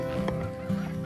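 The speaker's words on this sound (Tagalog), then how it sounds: "Ito mga manok ni Kuya Alpi." Chickens clucking on a farm in a short, close burst of overlapping fowl calls, with a steady farmyard hum beneath.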